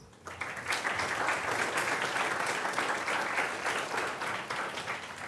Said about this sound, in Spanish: démosle la bienvenida con un gran aplauso